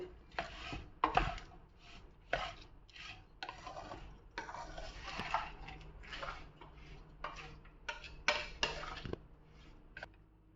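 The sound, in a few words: mixing lemon juice into rice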